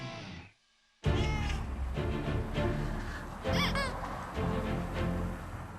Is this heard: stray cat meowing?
yes